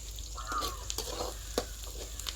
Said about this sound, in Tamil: டக்குன்னு வெங்காயம் போட்ட உடனே பொன்னிறமாக மாறுது